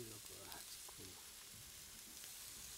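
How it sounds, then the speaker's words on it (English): Soy sauce sizzles on a hot griddle while a dish is finished in a cooking competition kitchen, a steady faint frying hiss with some faint voices underneath. "Smelling the soy sauce as it sizzles on the griddle is quite tantalizing."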